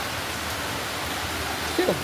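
Morning monsoon rain falls steadily in Ayodhya, a continuous even hiss of drops with no voices.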